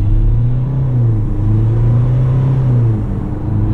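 A Great Wall Poer diesel pickup carrying a load pulls away and accelerates, a loud steady low engine drone from inside the cab rising and settling through the gears with no talking.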